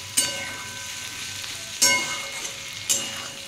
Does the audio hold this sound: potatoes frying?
yes